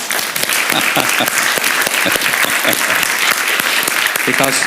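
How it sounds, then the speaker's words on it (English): Audience applause at the eMTIC five-year celebration session, honouring Ton Flamand: steady, dense clapping from a sizeable crowd, loud and continuous throughout with no pauses. "I want to have an applause for Ton Flamand"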